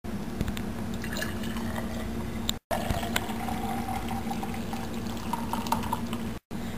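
Iced tea is strained and poured into two glasses, a close, continuous trickling and splashing of liquid with small drips, broken by two very short silent gaps.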